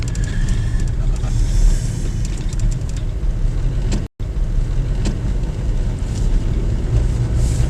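Car driving at night on a windy country road to Inch Island, a steady low road and engine rumble with a brief dropout partway through.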